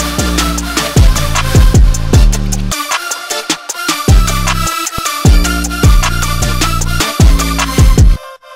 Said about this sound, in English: but then this time it's really two-step here on the hi-hat